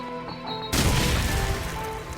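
A grenade blast in Counter-Strike on the Backlot map: quiet game ambience, then a sudden loud explosion that booms and decays over about a second and a half.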